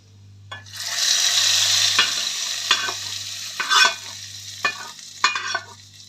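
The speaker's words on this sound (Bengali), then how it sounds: "ফোড়ন হচ্ছে রসুন ফোড়ন এটা ফোড়ন দিয়ে তারপরে দিয়ে ঢেলে দেওয়া হবে" Garlic tempering sizzles loudly in hot oil for a palak paneer, a steady bright crackle broken by several sharper hissing bursts as the tempering is stirred or poured, with a low hum underneath and no voices.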